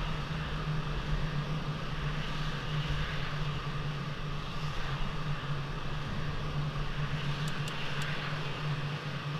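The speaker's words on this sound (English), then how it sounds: "Let's go on to the runway and let's take off." Jet engine of a fighter aircraft running steadily at takeoff power in the Falcon 4 Allied Force flight simulator, a loud continuous roar with a low drone throughout, no voices.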